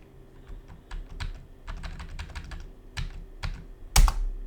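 A password being typed on a computer keyboard: a quick run of close, crisp key clicks in an uneven rhythm, ending with one louder, heavier keystroke.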